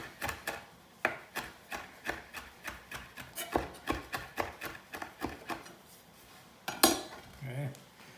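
Rosemary leaves being chopped with a knife on a board in a home kitchen, a close, steady run of sharp rhythmic knocks, about two a second, with a scrape near the end.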